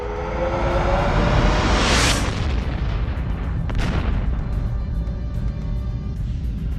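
A deep, rumbling blast with a rising whoosh that swells and booms, followed by a second surge, then a long, roaring decay.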